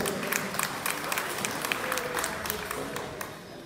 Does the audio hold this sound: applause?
yes